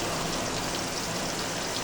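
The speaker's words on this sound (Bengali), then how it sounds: "বাইরে প্রচণ্ড বৃষ্টি হচ্ছে।" Heavy rain pours steadily outside a home kitchen, a dense, even hiss that holds at constant loudness throughout with no voices.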